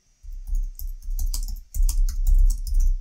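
A password being typed on a computer keyboard, a quick, close run of crisp key clicks with uneven rhythm and brief pauses, heard alone.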